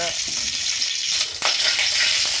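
Mustard seeds and urad dal frying in hot oil for a home-cooked dish, a loud, dense, continuous sizzle with crackling pops, close up, with no speech.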